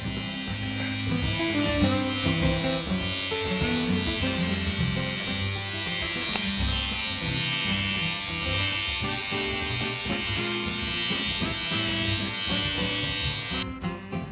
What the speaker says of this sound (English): I'm gonna go ahead and do the regular shaver